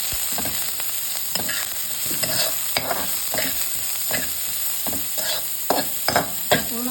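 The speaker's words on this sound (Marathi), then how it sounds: "पूर्ण कांदा तेलावर परतायचा" Thinly sliced onion frying in oil with bitter gourd, a continuous sizzle broken by frequent irregular stirring scrapes and clinks of a spoon against the pan.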